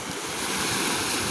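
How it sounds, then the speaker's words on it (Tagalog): Strong wind sweeps the seashore under dark, overcast skies, a loud continuous broadband roar with buffeting against the microphone and surf mixed in. "Ayan, sobrang hangin."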